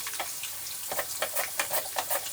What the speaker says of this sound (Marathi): तर हे मी आता घालून घेते त्यात तेलामध्ये आणि एकदम लो फ्लेमवरती आपल्याला याला तळून घ्यायचं आहे